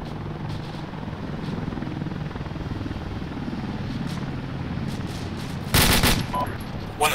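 A helicopter in an Arma military game, Shack Tactical, drones steadily throughout with a rhythmic rotor chop, and a sharp burst of gunfire breaks in near the end.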